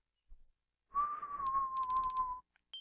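A person whistles one steady, slightly wavering tone for about a second and a half, close and fairly loud, with the pitch sagging and thinning out the way a whistle does through dry lips; faint clicks and a brief squeak follow.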